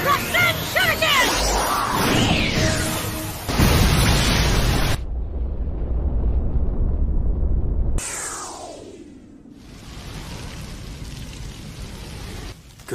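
Anime ninjutsu attack explosions from Naruto, a sustained roaring blast with rumbling debris, abrupt cuts to a noisy hiss and a descending whoosh, loud and dense throughout.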